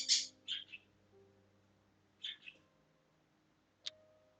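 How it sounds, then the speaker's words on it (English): A pet bird chirps nearby in short bursts: a cluster of quick high calls, then another pair a couple of seconds later and a single sharp chirp near the end, over a faint steady hum. "if you could hear my bird"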